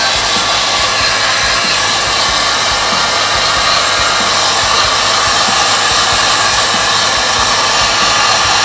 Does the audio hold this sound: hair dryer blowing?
yes